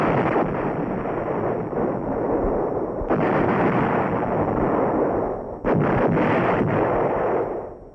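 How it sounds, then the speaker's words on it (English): Artillery preparation fire on a helicopter landing zone in Vietnam, heard as a continuous heavy rumbling roar with renewed surges of blasts partway through, loud and dominant, with wind-like noise over the microphone. "While the infantrymen are en route, the artillery begins its preparation fire on the LZ."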